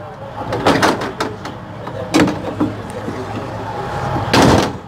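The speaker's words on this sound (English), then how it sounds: "Make sure my doors operate properly." Doors on a Prevost bus open and close during a pre-trip inspection, giving several sharp clunks and bursts of air spread over a few seconds above a steady low engine hum.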